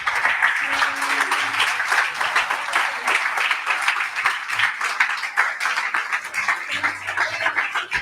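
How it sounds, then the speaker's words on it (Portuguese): A church congregation bursts into loud, sustained applause, a thick, fluttering wave of hand-clapping with faint cheers mixed in, heard alone without speech. "Um aplauso a Jesus."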